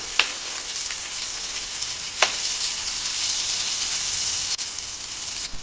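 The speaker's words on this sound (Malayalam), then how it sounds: "ഒരു മീഡിയം ഫ്ലെയിമിലിട്ട് നമുക്കിതൊന്ന് വറുത്തെടുക്കാം കേട്ടോ" Pieces of tender jackfruit fry in a pan over a medium flame, giving a steady, even sizzle throughout, broken by a few sharp pops.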